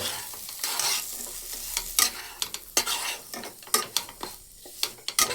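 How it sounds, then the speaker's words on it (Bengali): A spoon scrapes and knocks against a pan in irregular strokes while dry semolina fries with a soft sizzle, close up. "এখন আমি দিয়ে দেবো সুজিটা দিয়ে তারপরে আবার ভাজা ভাজা করব"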